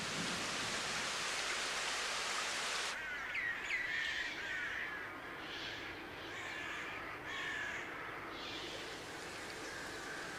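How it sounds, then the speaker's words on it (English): Large flocks of migrating birds caw and call together in the distance over a steady hiss of winter rain or wind in Israel, the cries rising and falling throughout. "Large flocks of birds that arrived in autumn enjoy a pleasant, comfortable home."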